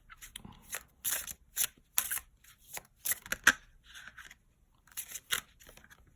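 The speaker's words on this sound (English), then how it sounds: "I'm gonna pull 5 cards for that." Tarot cards being shuffled by hand, a run of crisp riffling flicks and soft slaps in irregular bursts, close and fairly quiet with short pauses between.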